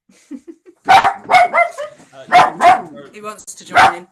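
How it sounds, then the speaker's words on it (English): A dog barks in several sharp, close bursts, interleaved with someone talking nearby in a quiet room. "excuse the dog."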